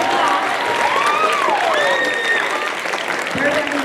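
A school speech and debate event audience claps steadily in a large room, dense broadband applause with whistles and cheers over it and some voices in the crowd.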